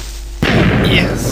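A sudden loud Minecraft creeper explosion bursts in after a quiet moment, followed by a rumbling, crackling tail.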